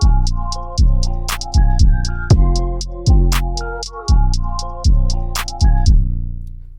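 Trap verse beat made in FL Studio with a swapped melodic sample: steady punchy kicks with deep tails, rapid ticking hi-hats and a few sharp snare or clap cracks, looping evenly for about seven seconds with no voice.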